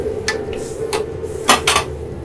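Beef pieces for spicy hot pot noodles drop into boiling water in a pot: a steady low bubbling with several crisp clinks and splashes of utensils against the pot.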